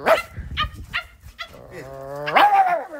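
A dog in an Italian village gives several short sharp barks close by, then a long drawn-out, rising and falling howl-like call.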